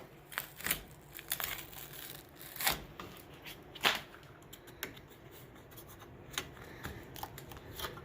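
A rubber weather seal strip is pulled out of the interior trim of a 1977 Chevy Camaro, giving quiet, irregular crinkling and scraping tugs with a few sharper snaps.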